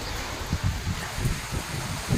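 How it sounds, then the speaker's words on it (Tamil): Stormy wind and heavy rain thrash a neem tree in Chennai, a continuous rushing leafy hiss broken by low, gusty buffeting bursts about every half second. "புயல் காற்று அடி அடின்னு அடிக்குது பாருங்கள்."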